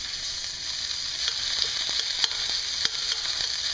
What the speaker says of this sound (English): first we have to heat up the cooking oil in the wok, and then we put in the ground pork